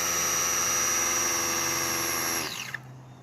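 A Traxxas Funny Car RC drag car, held by its wheelie bar, does a burnout: a loud, steady high-pitched motor whine and tire spin that winds down sharply near the end.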